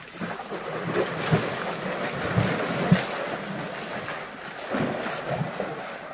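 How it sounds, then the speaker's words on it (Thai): Water splashes and surges around a moving boat during a ride, with rushing waves and strong wind buffeting the microphone, plus a few louder slaps of spray; no talking. "น้ำแตกน้ำแตกน้ำกระเด็นหมดเลยนะคะ"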